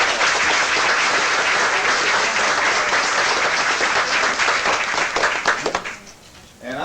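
An audience bursts into loud, sustained applause right after a congratulatory moment at a gathering, dense clapping that rolls on for several seconds before thinning out near the end.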